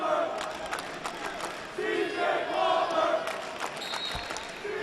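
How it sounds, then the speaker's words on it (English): A college wrestling match crowd cheers and shouts across the whole stretch, a dense wash of voices with rising yells and whistles, fairly close and steady under the arena noise. "Now there's the Hunter crowd behind us."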